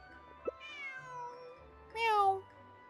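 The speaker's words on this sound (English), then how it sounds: "Meow." A cat meows twice in the video game Genshin Impact, a soft rising mew followed after a pause by a louder, brighter meow, both close and clear over a faint game backdrop with a small click beforehand.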